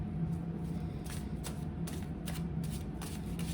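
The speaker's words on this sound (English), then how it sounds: "I'm going to pull 2 cards for you" Playing cards being shuffled and drawn for a tarot-style pick-a-card reading, a run of soft close riffling flicks and taps over a quiet room hum, without speech.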